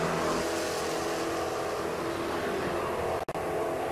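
A True Street drag race car at the NMCA/NMRA event in Atlanta launches off the line with a loud, sustained engine roar, ending in a brief sharp dropout near the end.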